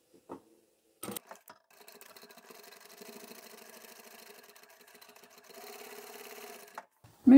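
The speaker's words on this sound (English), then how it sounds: "Take that to the machine, so straight down this long edge here." Sewing machine running a straight seam down the long edge of fabric for a large craft bag, with a few clicks and handling knocks before it starts, then steady close rapid stitching in two runs.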